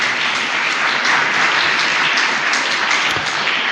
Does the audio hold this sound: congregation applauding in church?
yes